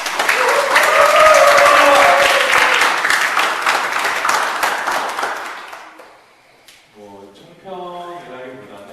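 Applause from a presentation academy audience, loud and dense for about six seconds before fading out, with people speaking afterward.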